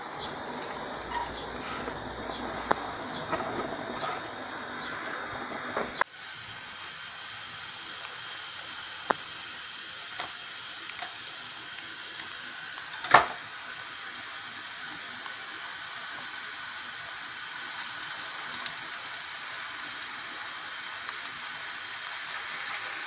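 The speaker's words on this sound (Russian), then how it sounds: "Потом вместе с луком пережарим." Minced hake sizzles with onion in a frying pan, a steady bright hiss holding for the whole stretch, with a sharper crackle partway through and no voices.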